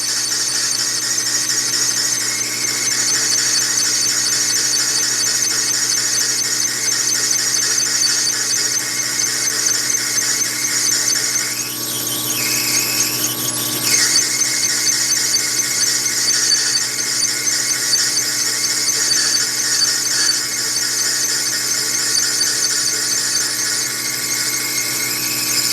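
A lathe turns a high-speed steel end mill with a loud, steady, high-pitched squealing whine that holds for the whole stretch, wavering briefly midway, with no talk.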